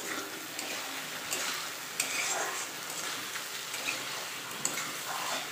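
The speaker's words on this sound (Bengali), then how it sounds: "মাছের জন্য মশলা কষাচ্ছি।" Spice paste for fish is sautéed and stirred in a pan, a soft steady sizzle punctuated by light scraping strokes of the spoon.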